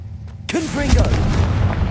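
A Confringo spell explodes in the video game Hogwarts Legacy as a sudden loud blast that rumbles on for over a second, with a voice calling out over it.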